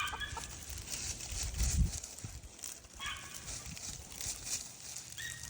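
A flock of chickens clucks in short bursts near a snake on a farm with a pole barn, mixed with faint voices and some rustling and thumping nearby.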